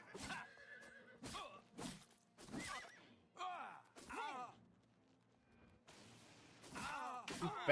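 Several loud horse neighs and whinnies in the video game Oblivion Remastered come one after another with short gaps, some snorting and faint hoofbeat-like clopping, close up and with no speech.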